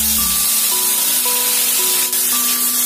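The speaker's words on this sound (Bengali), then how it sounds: "এবার দিচ্ছি বেটে রাখা পেঁয়াজ" Ground onion paste hits hot oil with whole spices for a Bengali prawn malai curry, giving a steady, loud frying hiss over nearly three seconds, with soft sustained musical tones beneath.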